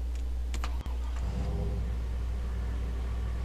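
A BMW engine in Farming Simulator drones with a low, steady, diesel-truck-like rumble, close and constant, broken briefly by a few clicks near the start.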